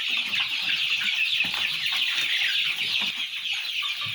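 A crowd of young chicks chirps continuously at close range, a dense, high, overlapping peeping that holds steady throughout.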